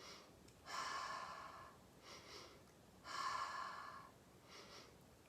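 Slow, guided breathing during a relaxation exercise, with deep airy inhales and exhales repeating in an even rhythm, two fuller breaths alternating with lighter ones, close and quiet.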